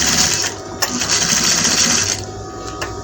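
A sewing machine stitches a collar on a boy's African-style men's top, whirring in a steady, continuous run close by that eases slightly in its final second.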